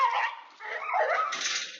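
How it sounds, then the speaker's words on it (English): A dog gives a short run of whiny yips and barks, thin and somewhat distant, as picked up by a home surveillance camera microphone. "So my surveillance cam caught Jin scaring the dog"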